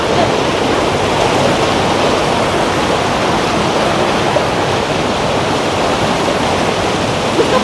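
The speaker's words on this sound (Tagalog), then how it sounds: "Mag-flow na lang yung tubig" Water pours steadily in a decorative city-centre fountain in Skien, a loud, continuous broadband rush with no pauses, filling the whole stretch.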